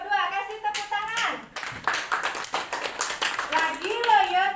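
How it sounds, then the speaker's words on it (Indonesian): A classroom applauds a group's correct answer with a burst of brisk hand clapping. It comes in several rhythmic rounds, mixed with a teacher talking and children's voices. "Kasih tepuk tangan."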